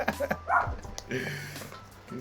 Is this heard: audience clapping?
no